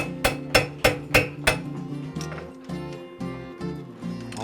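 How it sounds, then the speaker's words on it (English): A farrier hammers a horseshoe on an anvil: five sharp, ringing metallic strikes at a steady rhythm, then a run of lighter, quicker taps with a bell-like ring, close by and with no talk. "You're working all parts of the anvil there."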